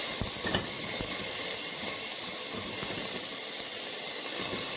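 Eggplant being stirred in ghee in a hot pan, with garlic for a moussaka: a steady, close sizzling hiss with a few soft scraping knocks near the start, no voices.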